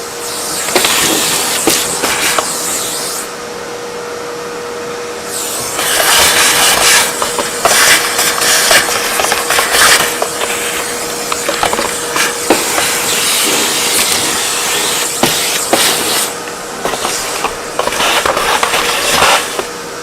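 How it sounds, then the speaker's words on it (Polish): A vacuum cleaner works over a DeLonghi Magnifica S coffee machine being rescued from the scrap pile, a loud continuous whining roar that surges and dips as the nozzle moves, with no talking. "Dobra, odkurzam, zatkajcie uszy."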